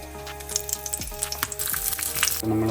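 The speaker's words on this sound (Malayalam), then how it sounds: "നമ്മൾ കടുക് വറുത്തു." Mustard seeds fry in hot oil for the tempering of Angamaly mango curry, a close crackling sizzle with scattered pops and a few stirring scrapes.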